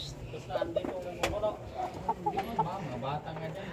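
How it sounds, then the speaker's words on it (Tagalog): Chickens cluck in a rooftop garden, close and moderately loud, in repeated short calls. People talk over them at times. "Hala, naidagang manok si Juni."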